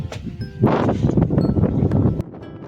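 Loud gusty wind buffeting the microphone in a heavy roaring rush that swells and then drops away, with faint rattling in the background.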